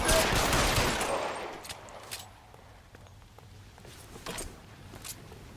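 Gunfire in L.A. Noire, with a loud burst of rapid shots at the start that fades into scattered, fainter single cracks and light footstep-like taps.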